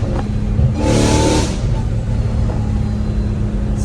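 A Dodge Hellcat Redeye fitted with catless pipes roars hard under acceleration, loud and close, a dense continuous engine blare with a surge of rising intake and exhaust noise, voices faintly mixed in.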